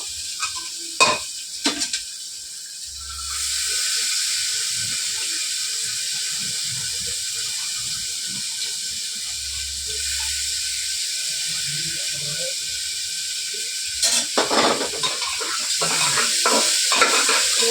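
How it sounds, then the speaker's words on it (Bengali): Lentils tipped into a pan of fried onions hiss and sizzle steadily while being stirred, with a few scraping knocks at the start and near the end, close and fairly loud with no talking. "পেঁয়াজটা ভাজা ভাজা হয়ে গেছে ডালটা দিয়ে দেবো"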